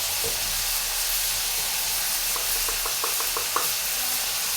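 Bitter gourd fries in a pan with a pinch of turmeric, giving a steady close sizzle with soft stirring scrapes and a few brief clicks partway through.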